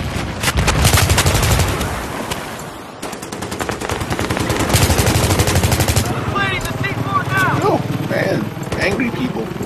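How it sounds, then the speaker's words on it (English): Battlefield 3 gunfire on Kharg Island in Conquest mode roars as dense, sustained automatic fire for several seconds, then thins into scattered shots among other battle sounds, loud and close. "Angry people shooting at me all over the place"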